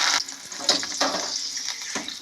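Garlic and curry leaves crackle and sizzle in hot oil while bitter gourd fries in a pan, a steady close hiss broken by small pops.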